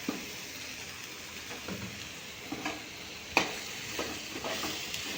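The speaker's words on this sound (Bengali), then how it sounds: "ফ্রাই করাটা যেটা আছে চিকেনের মধ্যে দিয়ে হালকা একটু টস করে নেব" Chicken for thukpa sizzles softly in a pan as it is tossed and fried, with a steady low hiss and occasional scrapes and clinks of stirring, alone and without talk.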